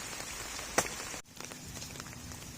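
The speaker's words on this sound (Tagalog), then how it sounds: "Muulan pa rin dito." Steady rain pours over a flooded farm field, where a papaya tree has toppled, keeping up an even, dense patter with one sharp tick partway through.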